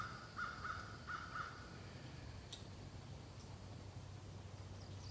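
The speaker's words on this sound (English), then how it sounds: "Crow just came to visit us." A crow caws outdoors during a gentle yoga session, four quick harsh calls close together near the start, then quiet outdoor ambience with a faint low hum.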